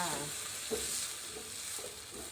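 Broccoli and pork being stir-fried in a pan with oyster sauce, soy sauce and a little sugar and water, a continuous close sizzle with soft stirring scrapes and no talk.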